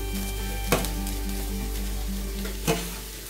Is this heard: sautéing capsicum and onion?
yes